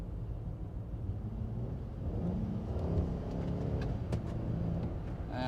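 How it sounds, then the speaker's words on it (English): A Honda Ridgeline in snow mode accelerates on a snowy, salted road, its engine a steady low rumble that swells slightly under throttle, heard from inside the cab with continuous road noise. "I'm gonna try giving it some gas and see if I still spin."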